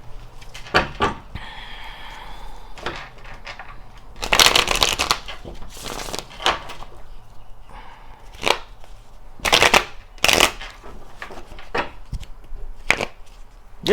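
A deck of tarot cards is shuffled in repeated bursts, crisp riffling and slapping sounds close up with quiet handling gaps between them.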